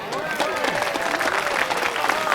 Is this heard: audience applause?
yes